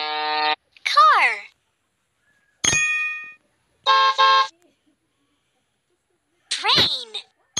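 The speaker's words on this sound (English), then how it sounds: "Car." A cartoon car horn honks twice in a preschool vehicle-identification game, two short, bright toots separated by spoken words and pauses.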